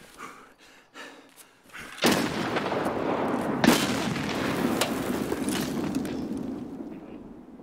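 Grenade blasts in the video game Escape From Tarkov: a loud, sharp explosion erupts after a few quiet seconds, followed by a second heavy boom and a long rumbling, crackling tail with no talk.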